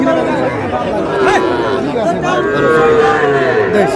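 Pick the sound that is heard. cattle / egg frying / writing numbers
cattle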